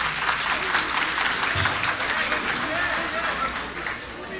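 An evening concert audience claps steadily and warmly for a singer, a dense sustained applause with voices mixed in throughout.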